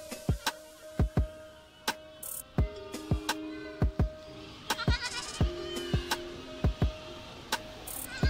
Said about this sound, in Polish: Koza domowa jest zwierzęciem prowadzącym dzienny tryb życia, jest towarzyska i żyje w stadzie.